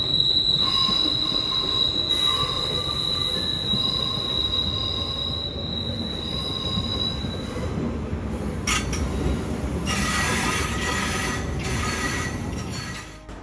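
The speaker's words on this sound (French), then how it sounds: "Et puis le train, il peut entrer en gare à 40 km/h." A train rolls into a Swiss station on the Bern–La Chaux-de-Fonds line at about 40 km/h, its wheels squealing in long, high, steady tones over a loud continuous rumble of wagons, with occasional metallic clinks.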